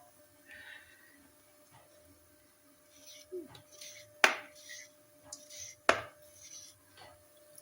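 Potatoes being chopped for chips on a kitchen board: scattered knife taps, then two sharp loud cuts and several softer strokes, set against a faint steady background hum.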